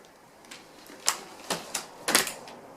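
A Chicco Goody stroller is unfolded one-handed, giving a handful of sharp clicks and snaps spaced about half a second apart, close and fairly loud, with a faint low rustle underneath and no talking.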